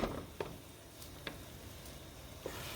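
Eggs frying in a breakfast skillet, a steady soft sizzle punctuated by a few sharp crackles and pops, close up with no talking.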